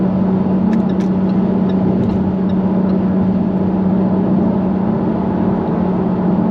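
A Jaguar F-Type convertible's engine cruises in top gear at low revs, producing a steady, even drone with road noise and no voices.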